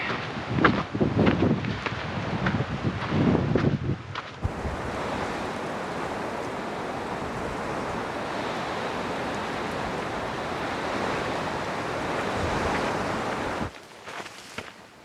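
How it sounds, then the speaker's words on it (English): Steady wind roars against the microphone for most of the clip, a broad continuous rush, after a few seconds of rustling and buffeting handling noise, on a mountain ridge on Mount Lemmon above a canyon. "Getting windy."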